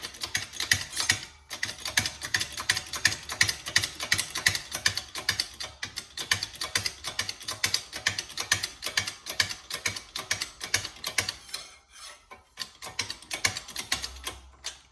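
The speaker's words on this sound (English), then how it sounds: "Bending the 1/8 inch pretty easily." An Eastwood metal press brake bending 1/8 inch steel, heard as a fast, steady ratcheting click repeating close up for the whole stretch, with brief pauses.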